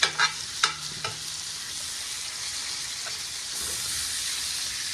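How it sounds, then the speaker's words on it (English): Steak frying in butter with thyme is flipped in the pan, giving a steady broadband sizzle with a few brief clatters and spatters near the start, close and fairly loud throughout. "Let's flip the steak real quick."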